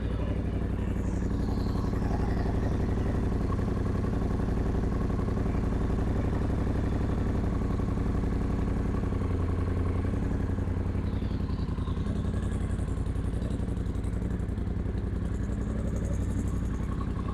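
A 2017 Triumph Bonneville T120 cafe racer idles steadily after a cold start with no throttle, a low even rumble with a fine mechanical patter, close and constant throughout, with no talking.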